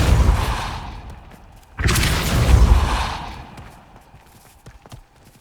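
Depulso spell cast in the Hogwarts Legacy video game, a loud whooshing blast with a deep booming thud and rumbling tail, followed by faint scattered clatters, with no speech.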